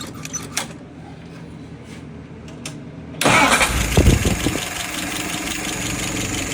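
A Weber WO 636SA carburetor's engine fires up: a quiet stretch of faint clicks, then a sudden loud catch at about three seconds and a steady, close mid-pitched idle that runs to the end.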